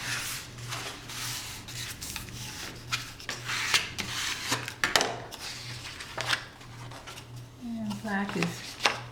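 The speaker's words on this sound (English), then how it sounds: "Score and burnish." A tool scores and burnishes fold lines into paper with repeated short scraping and rubbing strokes, close and fairly quiet, over a low steady hum, with a brief voice near the end.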